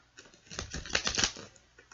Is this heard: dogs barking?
no